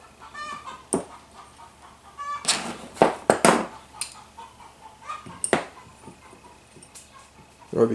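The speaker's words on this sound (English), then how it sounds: "I don't know if you can hear our chickens sound pretty excited outside." Chickens cluck and squawk excitedly outdoors, heard at a distance in irregular bursts and calls over a quiet background, with a few louder sharp knocks and noises closer by.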